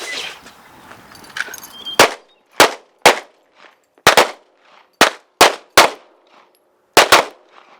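Sharp pistol shots from several shooters at a defensive pistol drill ring out in a ragged volley of about ten close, loud cracks spread over five seconds, following a stretch of quieter background murmur.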